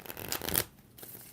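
Tarot cards shuffled close by, a quick papery riffle and rustle building for about half a second, then a pause and a softer second shuffle, with no talking.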